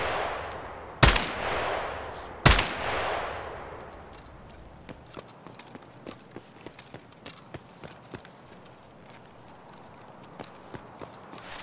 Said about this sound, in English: I said I was gonna mag dump too, and I'm pretty sure I did.